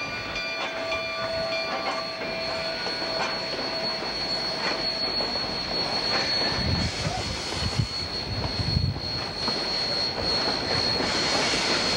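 Steady high-pitched squealing of a Colorado narrow gauge passenger train's wheels on rails as it pulls into Durango, sustained and piercing over a rumbling rolling train, growing harsher toward the end.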